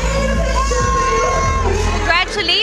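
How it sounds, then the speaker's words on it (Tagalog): A crowd erupts in loud shouting and cheering as actress Jasmine Curtis Smith comes out at an LGU event in Lipa, Batangas, a dense, sustained roar of voices with high whoops near the end. "Hiyawan ang lumabas ang bida sa serye na si Jasmine Curtis Smith."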